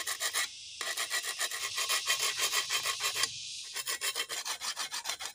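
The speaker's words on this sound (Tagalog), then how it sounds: "Medyo hasain ko lang." A steel file rasps back and forth across a grass cutter's nicked blade outdoors, a steady run of close, rhythmic grating strokes with two short pauses, no voices.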